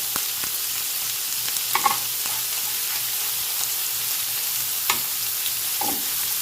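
Korean samgyeopsal pork belly fries in oil at home, making a steady, moderate sizzle with occasional pops and crackles scattered throughout, no voices.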